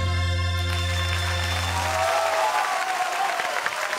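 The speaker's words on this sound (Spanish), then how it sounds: "Un aplauso enorme para ellos." Loud audience applause and crowd noise for a tribute group's stage performance, rising as the music fades out and then filling the rest of the clip alone.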